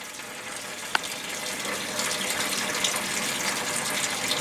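Fluid pouring steadily in a strong stream as it drains out of the engine block of a 1977 Cadillac, a continuous splashing trickle at moderate level with one brief sharp tap near the start.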